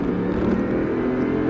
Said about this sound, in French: Allez, on reste à gauche et on accélère.